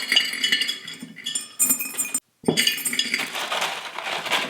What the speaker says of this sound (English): Don't you just love the sound of clinking glass?